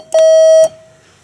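A ThyssenKrupp elevator panel buzzer gives a single steady electronic beep lasting about half a second, close and clear, with brief clicks as it starts and stops.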